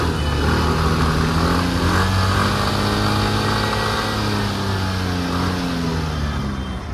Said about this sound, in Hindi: अब एक बार मैं स्कूटर को ऑन करता हूँ, मैं आपको इसकी आवाज़ भी सुना देता हूँ